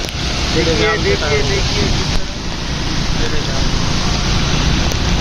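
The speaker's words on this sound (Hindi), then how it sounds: "ये रोड के ऊपर धनाधन पानी उड़ाता हुआ जा रहा है" Continuous broadband wash of water spraying off a road as a heavy container truck passes in heavy rain, with rain and wind noise and someone talking over it.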